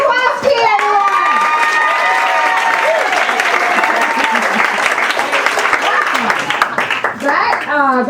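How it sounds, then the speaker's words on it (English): At the close of a stand-up comedy show, a club audience keeps up loud, sustained applause with cheers and whoops, while a voice talks over the crowd throughout. "Keep your applause going for everyone"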